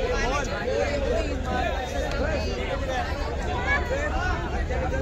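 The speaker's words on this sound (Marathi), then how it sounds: "आता हे बघा गर्दी गर्दी खूप आहे गर्दी" A large, dense crowd gathers for the Sai palkhi procession arriving in Shirdi, a steady wash of many overlapping voices and bustle with someone speaking close over the hubbub throughout.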